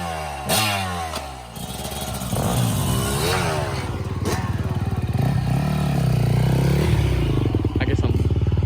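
A 2002 Kawasaki KX 250 two-stroke dirt bike revs in the woods with a loud, close, raspy, buzzing engine that rises and falls through repeated throttle blips and holds a high, continuous whine.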